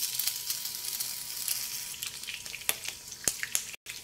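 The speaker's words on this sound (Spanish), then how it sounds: "Aproximadamente se fríen en unos 3 minutos." Patties of nopal cactus, meat, cheese and egg yolk fry in a skillet, giving a steady, close crackling sizzle scattered with sharp little pops and spits, with no talking.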